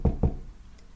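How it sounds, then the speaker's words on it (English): Two firm knocks land on a door in quick succession, close and loud, deep and hollow, followed by quiet. "Gandalf stopped and knocked on the door"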